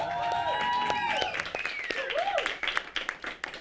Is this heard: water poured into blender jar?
no